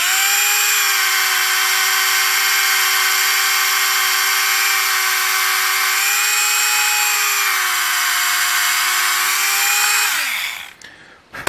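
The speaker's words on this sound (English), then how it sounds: "I'm going to try it on this wooden block here that I have wrapped in sandpaper." A Tamiya Handy Drill, a small hobby rotary tool, spinning against a wooden block wrapped in sandpaper, giving a steady high motor whine close to the mic that holds for about ten seconds before winding down and stopping.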